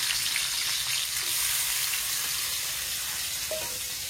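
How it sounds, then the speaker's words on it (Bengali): Garlic sizzles steadily in hot oil in a village kitchen in Bangladesh as the first step of a dried fish curry, a continuous soft crackling hiss with no voices. "শুটকি রান্নার জন্য প্রথমে এই যে রসুন দিয়ে দিতেছেন"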